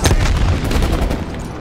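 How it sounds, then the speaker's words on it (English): Explosions from bombs thrown in Call of Duty: Black Ops Cold War on PS5, a dense, loud burst of booming blasts and gunfire-like cracks filling the whole moment with no talk. "I'll just take this guy quickly and throw some bombs in there."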